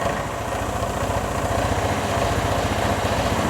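A Vespa ET4 scooter engine idling very low and struggling to stay running, a close, steady, rapid putter with a fine rhythmic throb and no voices.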